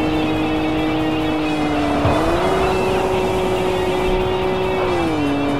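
Nissan Pulsar with an inline-six engine racing in the Shutokou Battle 01 video game, its engine droning steadily at high revs with pitch shifts as gears change, loud and continuous throughout.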